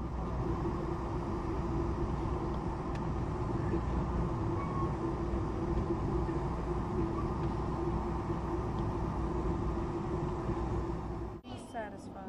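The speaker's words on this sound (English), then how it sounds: "Descending from Donner Pass, the California Zephyr passes a freight train waiting on a siding." The California Zephyr descending from Donner Pass while passing a freight train waiting on a siding, a steady loud rumble and roar of rail cars throughout, with a voice speaking over it and a sharp shift near the end.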